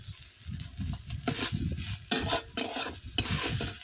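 Soybean chunks sizzling in a pan while a utensil stirs and scrapes in bursts, close and fairly loud, with no talking.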